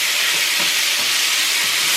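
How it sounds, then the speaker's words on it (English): Curry shrimp stir fry crackles in a pan as it is mixed, a continuous loud sizzling hiss with faint low scraping thumps from the stirring underneath, and no one talking. "you keep on mixing this for about 3 to 5 minutes, and your stir fry is ready"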